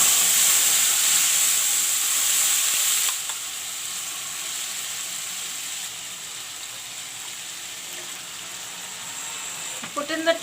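Ground masala and panch phoran sizzle in hot oil for a local fish curry, a steady bright frying hiss that drops a little in intensity partway through, with a few soft clinks near the end.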